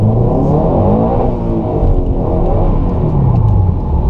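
A car drifts through the first corner at Oulton Park during a drift day, its engine loud and close, revving and wavering in pitch with a rough, rumbling roar throughout.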